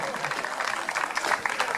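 An audience claps for a performer at a live televised concert. The applause is brief and fairly close, with a voice speaking over it.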